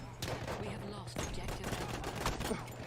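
Gunfire in the Battlefield 1 video game, a rapid rattle of overlapping shots and bursts at moderate distance, mixed with game noise and a person talking.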